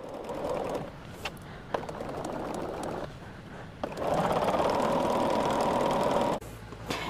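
A sewing machine stitching quilt pieces runs in short humming bursts separated by brief pauses, then settles into a longer, louder steady whir before stopping, heard close with a faint mechanical clatter.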